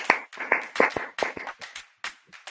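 A few people clap hands in a loose, uneven rhythm, sharp close claps coming in short bursts with brief gaps between them, no voices.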